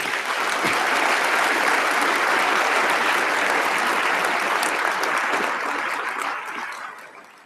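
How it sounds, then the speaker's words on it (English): Sustained applause from a large crowd at a graduation ceremony, loud and steady throughout, tapering off near the end. "A round of applause to all of you from all of us today."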